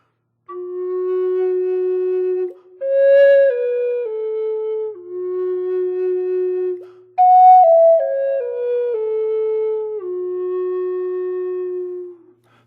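A Native American flute sounds its lowest note, the fundamental, in a few sustained breathy tones with small steps in pitch, close and clear, played alone.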